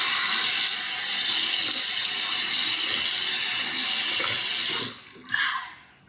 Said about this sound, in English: so I'm gonna drink some water